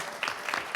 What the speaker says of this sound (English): That's deserving of another round of applause,